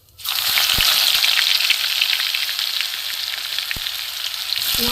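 Chopped garlic hits a hot wok and bursts into a loud, even sizzle. The sound holds strong, with a couple of faint clinks now and then, and no one speaks.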